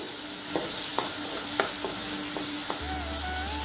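Masala spices fry in oil in a pan for a mustard fish curry, a steady close sizzle broken by several sharp clinks and scrapes of a stirring spoon.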